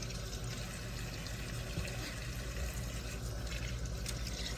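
Tomatillos being washed by hand under a running kitchen tap, a steady continuous rush and splash of water filling the whole moment at close range.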